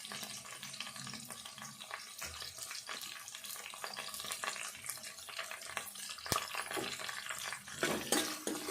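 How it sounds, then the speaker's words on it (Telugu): Onion and curry leaves sizzle steadily in a hot pan for an old-style fish curry, a continuous crackling fry with small spatters and stirring clinks and no voices. "ఈ ఉల్లిపాయ వేగాలి."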